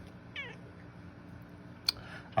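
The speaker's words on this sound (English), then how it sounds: "You may hear my cat in the background." A single short cat meow, faint and somewhat distant, over a low steady background hum, followed by a couple of brief clicks.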